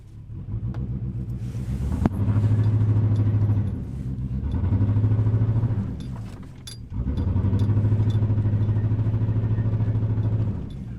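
A 24-year-old Chevrolet Silverado pickup revs hard while attempting a burnout, its engine rumbling loud and close in three sustained, droning pushes separated by short dips.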